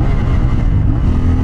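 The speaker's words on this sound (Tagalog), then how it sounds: "At dahil doon, maganda yung exhaust note niya." A 2024 CF Moto 450MT motorcycle with a crossplane-style engine, its exhaust note a brief, loud, low rumbling drone held steady at close range.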